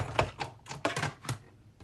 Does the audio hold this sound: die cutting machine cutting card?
yes